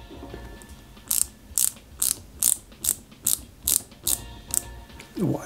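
A screw is driven into the brake caliper bracket of a Peugeot 205 GTI 1.9 scale model with a small hand tool, giving about ten evenly spaced, close ratcheting clicks and then a brief rising squeak.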